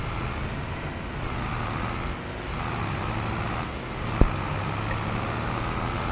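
Tractor pulling a trailer in Farming Simulator 25, a steady loud engine drone with rumbling road noise throughout and a single sharp air-brake hiss partway through.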